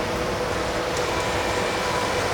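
A Williams Trains model train runs fast along its track, giving a steady, even rumbling whir that holds at constant loudness throughout with no talk.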